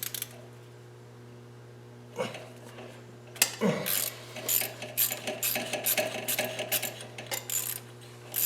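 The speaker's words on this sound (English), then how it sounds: "And our trusty little wrench." A small wrench ratcheting on an oil hose fitting, a few handling knocks followed by a close series of quick metallic clicks and scrapes.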